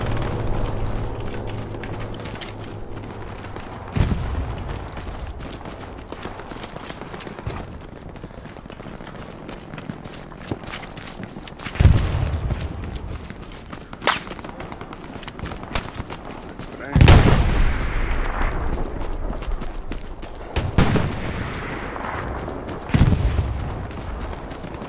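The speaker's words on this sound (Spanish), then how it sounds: "viene un balazo de todos lados" Scattered gunfire and booming impacts from several directions in the Hell Let Loose battlefield game, sharp bursts spaced every few seconds over a steady rumbling backdrop.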